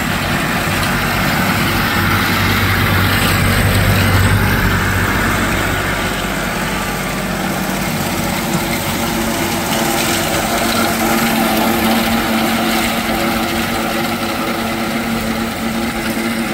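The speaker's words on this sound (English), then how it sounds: "That's an 80 horsepower tractor operating that." An 80 horsepower tractor runs a Vermeer eight-spinner hay tedder at an agricultural show, giving a steady, loud engine drone with continuous mechanical rattle and no break throughout.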